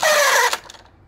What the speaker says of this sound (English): we're getting the drill